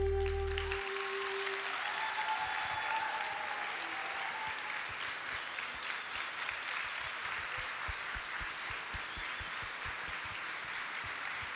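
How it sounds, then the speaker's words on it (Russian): Sustained audience applause fills a festival hall during a musical theatre show, dense and even clapping from a large crowd that stays steady for the whole stretch, with a brief low tone at the very start. "ваши бурные аплодисменты"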